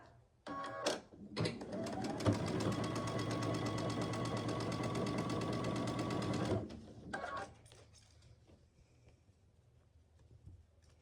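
A sewing machine stitches a seam along the side of a quilt block, with a few short starting bursts and then a steady, rapid mechanical whirring run of several seconds, close-up, before stopping and fading to quiet.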